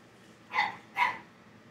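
A small dog gives two short, sharp barks about half a second apart, fairly close, over a quiet room.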